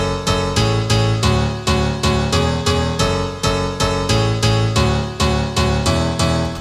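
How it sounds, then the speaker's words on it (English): A straight M1 piano for a speed garage track strikes bright, punchy chords in a steady, even rhythm, loud and alone with no talking. "they've just got this sort of straight M1 piano"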